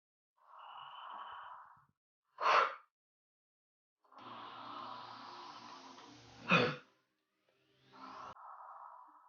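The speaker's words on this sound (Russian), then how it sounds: "набрать полные легкие воздуха и резко выдохнуть шумом" Vocal breathing exercise during a singing lesson: two sharp, noisy exhales, each following a long, audible deep inhale, with a fainter breath trailing at the end. Close and clear, with no talking.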